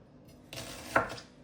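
A kitchen knife cuts down through an onion on a cutting board, one soft close crunch and thump against the board in an otherwise quiet room.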